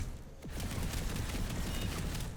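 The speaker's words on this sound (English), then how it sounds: "I'm taking some shots at somebody's head." A handful of rifle shots fitted with a VX29 Polaris laser sight in Planetside 2, quick close cracks against a steady background rumble, with no talking.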